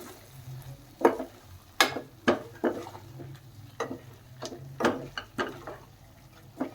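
Boiled eggs being stirred into hot oil in a pan give off a soft sizzle, broken by several sharp scraping knocks from a spatula on the pan, close and fairly loud.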